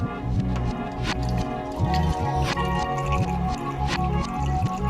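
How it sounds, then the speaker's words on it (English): Warm gellan gum mixture poured through a funnel into a one-liter glass milk bottle, giving wet dripping and squishing with a gurgling, uneven rhythm up close. "now we can work on pouring the warm Gellan Gum mixture into the glass"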